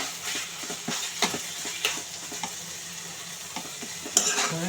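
Mixed leafy greens are stirred in a pan with a steady sizzle, punctuated by repeated sharp scrapes and taps of a spatula against the metal at an irregular rhythm.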